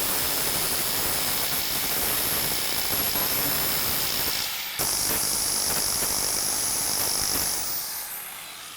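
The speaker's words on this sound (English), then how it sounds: "this is just a 4-inch angle grinder with a flat disc on it" A 4-inch angle grinder fitted with an 80 grit flap disc working in a car restoration workshop, giving a steady loud hissing whine that shifts pitch midway and then fades off at the end, with no talk.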